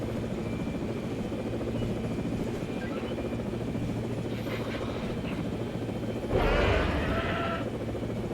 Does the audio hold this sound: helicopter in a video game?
yes